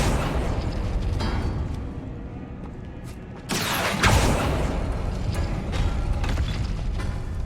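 Spell effects from Hogwarts Legacy, the Depulso and Accio charms, with a dense rumbling bed joined by a loud burst and whooshing blast about midway that holds strong to the end.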